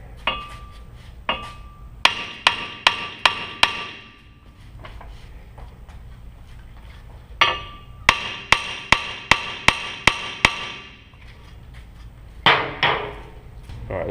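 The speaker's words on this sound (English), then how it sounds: "hold it so it doesn't fly off, and tap it with a hammer" A hammer strikes a stuck brake rotor on a Hyundai Sonata in quick rhythmic bursts of ringing taps, several in a row, pausing between groups; close and loud with no talking.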